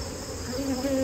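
Honeybees in an opened nuc hive give off a close, steady droning buzz that swells slightly toward the end.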